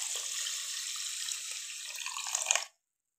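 Water pours steadily into a pot holding sugar, a continuous hissing, splashing stream for under three seconds that cuts off abruptly, leaving silence.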